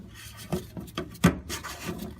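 Fuel filter on a 2014-2016 Ram EcoDiesel being screwed by hand into its housing past the O-ring, a few soft scraping rubs and one sharper click-like knock, close and quiet.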